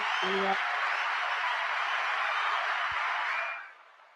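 Audience clapping for a guest during a hip-hop interview show, a dense, steady wash of applause that holds evenly before trailing off near the end, with a brief voice at the start.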